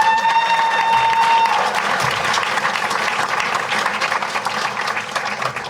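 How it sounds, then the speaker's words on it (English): A press-conference audience in Flint applauds boxer Claressa Shields, sustained clapping filling the room at steady loudness, with a brief tone sounding at the start. "Give her a round of applause."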